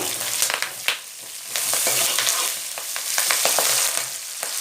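A curry base for tender ash gourd kulambu is mixed and fried in a pan, making close, continuous sizzling with repeated scraping stir strokes and no talking.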